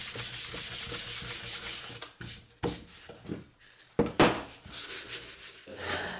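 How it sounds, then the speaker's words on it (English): Sandpaper rubbing over the wood of a camera obscura kit during finishing, a run of close, scratchy strokes with brief pauses between passes. "you're going to take sandpaper and sand it, which is extremely easy"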